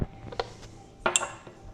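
A spoon handle mixes sourdough starter in a jar, giving a few light clinks and scrapes, close and fairly quiet, with a brighter clink partway through.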